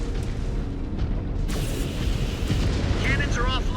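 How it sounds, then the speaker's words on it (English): Cannon impacts thunder in the MechWarrior 5: Clans video game, with heavy rumbling booms and a sharp burst midway, while a voice talks over the din. "The cannon impacts are coming through."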